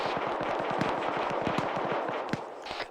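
Rapid bursts of gunfire in the video game ArmA 3 crackle steadily, overlapping automatic shots and distant pops forming a dense, continuous battle din.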